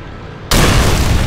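A grenade explosion in a video game, running on the Xenia Canary Xbox 360 emulator, bursts in abruptly after a quiet moment and roars as a loud, sustained broadband blast for the rest of the clip.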